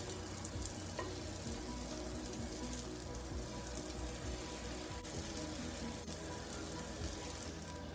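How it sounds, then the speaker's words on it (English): Pancake batter sizzling on a hot griddle for funfetti pancakes: a dense, loud, continuous frying hiss with faint clinks, no talk. "Just going to scoop the pancake batter right on the griddle."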